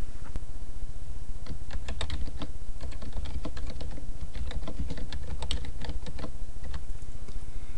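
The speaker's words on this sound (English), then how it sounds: "and typing the description." Steady, fast typing on a computer keyboard while entering descriptive notes about a tested cable, with rapid close clicks continuing without pause and no voices.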